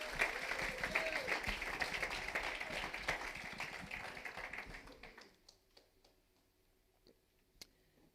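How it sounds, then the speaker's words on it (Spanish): A church congregation at a Christian community service in Logroño claps loudly together for several seconds, then the applause thins out into a few scattered, quieter claps and taps before fading to near silence. "Dale un aplauso al Rey de Reyes."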